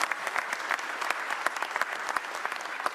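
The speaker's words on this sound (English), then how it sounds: "give that a round of applause" A crowd at a Philadelphia press event for naming a new police commissioner breaks into steady applause, a dense, sustained patter of many hands with sharper individual claps popping out, no voices on top.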